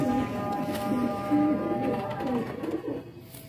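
Patti wale pigeons cooing in a loft, soft repeated low coos close by with a faint background hum.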